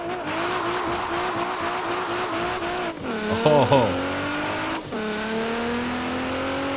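Nissan GT-R launching in Forza Horizon 4 played with a steering wheel: a loud engine drone climbing through gears with shift dips and a brief tire squeal, and a player's voice exclaiming once.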